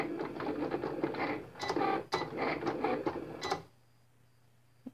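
A Cricut cutting machine whirs and clicks steadily as it rolls its mat out to unload, with a few sharp clacks, then stops abruptly, leaving a faint hum.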